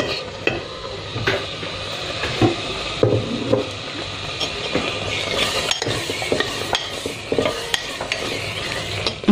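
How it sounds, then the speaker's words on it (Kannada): Masala and paneer frying in a pan for paneer biryani, with continuous sizzling and repeated scraping and clinking of a spoon stirring against the metal pan, close up and without talk. "ವಾಸನೆ ಹೋಗೋ ತನಕ ಮಸಾಲನ್ನ ಫ್ರೈ ಮಾಡ್ಕೊಳ್ಳೋಣ."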